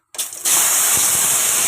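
Cut eggplant pieces dropped into a hot frying pan, where there is a short clatter and then a sudden loud, steady sizzle that carries on close by.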